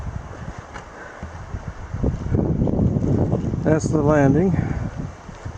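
Wind blows straight down a Boundary Waters lake into the microphone, a heavy low buffeting roar that grows stronger midway, while someone speaks a short phrase over it.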